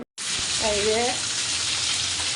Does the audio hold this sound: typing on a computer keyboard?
no